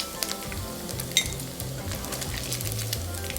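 Pork pieces deep-frying crisp in hot oil with garlic and pepper, a steady close sizzle with scattered crackling pops and faint low clatter, no voices.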